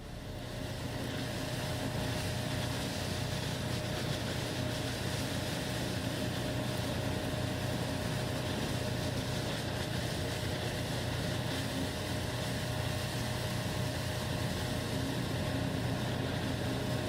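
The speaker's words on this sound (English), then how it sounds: "Swell after swell pound the ship's hull" Storm swells pound a rescue ship's hull, a steady, loud, broadband roar of wind and water rushing against the vessel with a low rumble underneath, continuous throughout with no voices.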